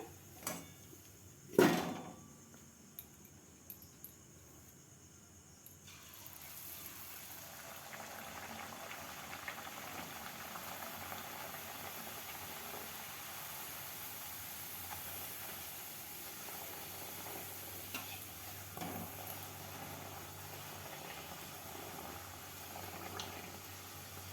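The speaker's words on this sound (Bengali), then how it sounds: "এটাও খুব সুন্দর ফুলেছে তো আমার ভাজা হয়ে গেছে তুলে নিলাম" Jackfruit luchi, a puffed fried bread, fries in hot oil. A dull knock near the start gives way to a steady, even hiss of bubbling oil that carries on for about twenty seconds.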